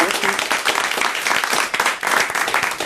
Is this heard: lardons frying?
no